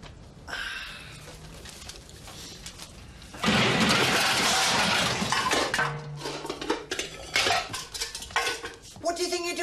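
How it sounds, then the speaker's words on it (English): Saucepans and pans clatter off a shelf onto a floor, a loud crashing tumble of metal cookware with ringing clinks and scattered bangs that trail off, following a stretch of quieter household rattling. "I suppose the pans just jumped off the shelf onto the floor"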